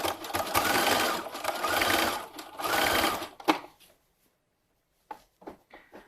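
A sewing machine stitches stretchy legging fabric in a fast, steady whirring run of about three seconds, close and loud. It then stops, followed by a few faint handling clicks.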